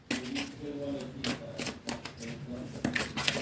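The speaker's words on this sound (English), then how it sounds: "So that's the last time I'll shuffle those cards now." A deck of cards being shuffled in quick riffling bursts, several short crisp flurries close by, with a person talking throughout.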